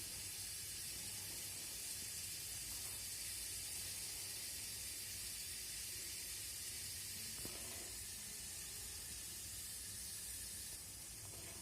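Chana dal spluttering in hot oil in a pan: a steady, faint hiss and crackle running throughout, with a few brief pops standing out.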